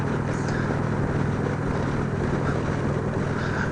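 2017 Indian Roadmaster motorcycle cruising at 60 mph around 2,300 RPM, a low steady engine drone buried under constant rushing wind noise.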